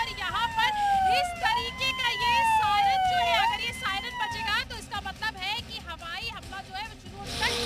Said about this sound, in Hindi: यहां सायरन बजाया गया